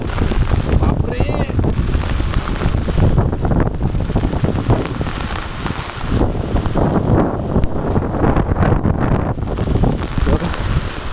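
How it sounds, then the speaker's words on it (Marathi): Strong stormy wind during a sudden monsoon thunderstorm in Maharashtra roars loudly and continuously, buffeting the microphone with gusts throughout. "जोराचा वारा सुटलाय ना."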